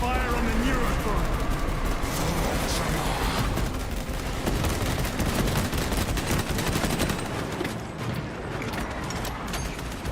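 Sustained rapid gunfire from Space Marine 2, with constant overlapping bursts of heavy weapons fire filling the whole stretch, loud and continuous, while a voice speaks over it.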